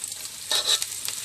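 Onions, garlic and chilies stirred and sautéing in a hot pan while preparing fried durian flowers, a close, steady sizzle with brief bursts of spatula scraping, no voices.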